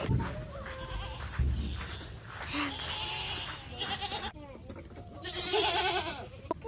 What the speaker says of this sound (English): We gotta feed the goats and the donkey.